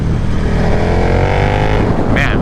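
A flashed 2022 KTM Super Duke R twin-cylinder motorcycle engine revs loudly and steadily nearby, its tone climbing as the throttle is twisted, with a brief burst of higher noise near the end.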